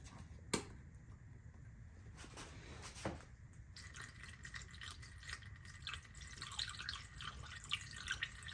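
Radiator flush liquid being poured into the cooling system of a 1990 Mazda Miata, with a steady trickling, splashing flow, a couple of sharp drips or clanks near the start, and the pour turning louder and busier in the second half.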